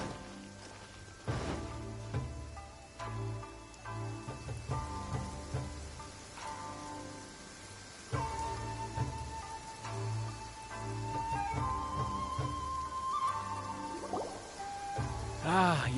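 Heavy rain in the video game Genshin Impact, a dense, continuous patter of drops on surfaces with scattered drips, steady throughout alongside soft background music.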